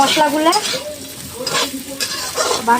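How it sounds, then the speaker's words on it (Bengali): Ground spice paste hitting a hot pan for a jackfruit cashew-poppy seed dish, close crackling sizzle mixed with stirring scrapes, loud and uneven in bursts over a few seconds. "এই সব মশলাগুলো আমি দিয়ে দিলাম"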